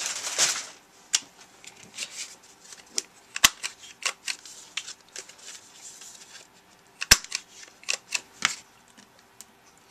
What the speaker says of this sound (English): I'm going to round these corners first.